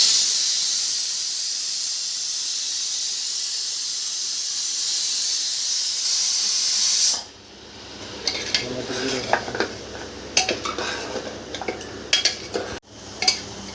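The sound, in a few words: goat head meat sizzling as it is added to pan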